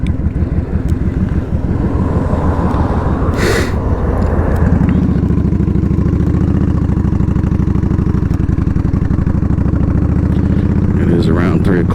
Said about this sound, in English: Let's see, traffic.